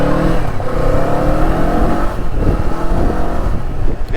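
A 2024 Kawasaki Eliminator 450 motorcycle accelerates hard through Saturday traffic. The engine drones loud and close, its pitch climbing steadily as it pulls.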